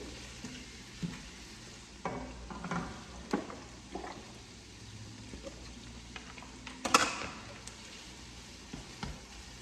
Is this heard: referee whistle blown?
no